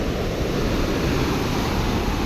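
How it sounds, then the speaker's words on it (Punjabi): Steady, loud roar of water rushing through the open gates of Pong Dam, Talwara, a continuous broadband rush with no pauses, heard up close without any talking. "ਦੇਖੋ ਕਿੰਨੀ ਸਪੀਡ ਨਾਲ ਪਾਣੀ ਜਾ ਰਿਹਾ"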